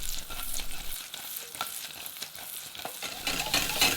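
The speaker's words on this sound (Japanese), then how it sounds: "そこに先ほどカルチェに切ったオニオンを入れて軽く塩をして全体的に混ぜます" Cut onions sauté in melted butter with a pinch of salt, giving a continuous quiet sizzle and repeated scraping stirs that grow a little louder near the end.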